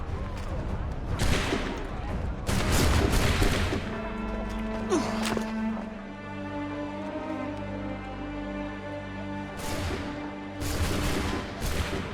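A musket volley fired on command in Assassin's Creed 3: a burst of loud, overlapping shots crackles out, then a second cluster follows later. Music and ambience run underneath, with voices between.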